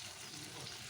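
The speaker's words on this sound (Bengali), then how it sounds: "এটা আমি বোয়াল মাছ দিয়ে এই টমেটো দিয়ে পেঁয়াজ দিয়ে তারপরে রান্না করা হচ্ছে" Boal fish cooking with tomato and onion in a pan, a steady close hiss of frying over a brief moment.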